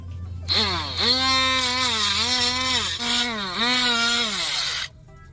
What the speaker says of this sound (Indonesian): Nanti akan saya amplas terlebih dahulu supaya nanti kita bisa melihat hasil ketika sudah rapi.